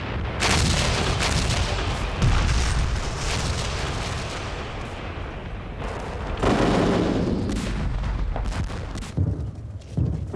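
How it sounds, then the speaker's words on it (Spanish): A Soviet artillery bombardment during the Second World War liberation of Leningrad roars continuously, with dense overlapping booms, blasts and rumbling gunfire filling the whole stretch at high loudness with no pauses. "La esperada evacuación fue interrumpida por un bombardeo de la artillería soviética."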